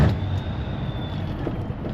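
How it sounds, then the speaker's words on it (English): A Scania 143 500 V8 truck engine drones loud and close in the cab as it downshifts, with a steady low rumble and a faint whine running through it. "I love that downshift."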